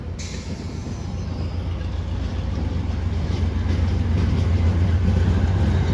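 An Amtrak train pulling out of Fredericksburg station in Virginia, a steady low rumble of engine and rolling wheels that slowly builds in loudness, heard from the platform with no talking.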